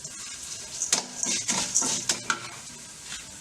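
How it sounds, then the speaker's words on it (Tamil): Urad dal being dry-roasted and stirred in a pan for chutney, with a close, irregular series of scraping stir strokes and light rattling of the lentils over a faint sizzle. "இந்த உளுந்தம்பருப்பு சட்னிக்கு உளுந்தம்பருப்பை நல்லா செவக்க வறுக்கணும்."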